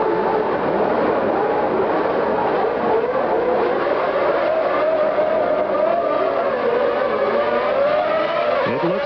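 Formula One cars from the 1991 Belgian Grand Prix scream away at the start, a dense howl of engines rising in pitch as the field accelerates, heard from a distance with broadcast muffling.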